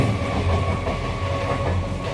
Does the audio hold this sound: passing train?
yes